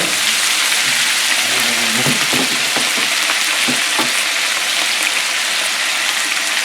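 Drained potatoes hit melted butter in a hot skillet and crackle in a loud, steady sizzle, with a few stirring knocks and scrapes through the first half and no talking.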